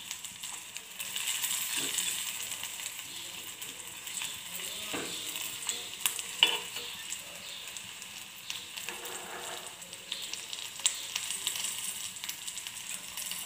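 Dates are sautéed in a pan, a soft, moderately faint sizzle running throughout with intermittent scraping stirs and small metallic clinks of a spoon against the vessel.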